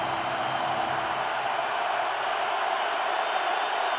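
Roaring stadium crowd at a Seattle Seahawks home game against the Rams in 2010, a steady, dense wall of cheering noise that holds loud and unbroken throughout.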